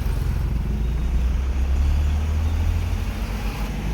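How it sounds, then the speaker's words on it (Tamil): Heavy road traffic crawling across the Thoppur bridge in Dharmapuri, a continuous low rumble of engines and tyres from cars, trucks and buses, steady and close, with no voices. "பாருங்க எப்படி டிராஃபிக்காக இருக்குது பாருங்கள்."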